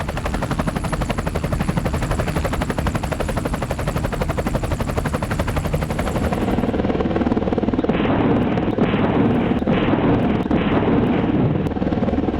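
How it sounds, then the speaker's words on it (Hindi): An Apache attack helicopter's rotor thuds loudly and steadily close by, its engine roaring under the rapid rhythmic chop. "दुनिया का सबसे ताकतवर multi role combat helicopter Apache है"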